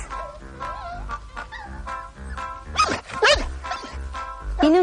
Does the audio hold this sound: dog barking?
yes